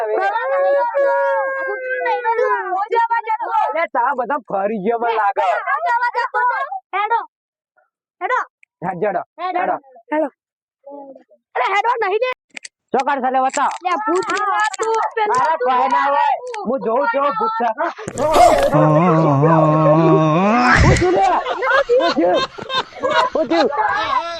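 A dog howls in long, wavering cries, broken by short pauses, with voices and other noise joining loudly near the end.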